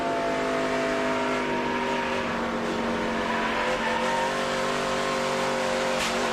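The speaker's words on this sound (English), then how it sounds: "You can hear the front tires and then the rear tires squealing the entire way." Continuous engine drone with sustained high-pitched front and rear tire squeal running throughout, heard from inside an ARCA Menards Series race car at speed at Kansas Speedway.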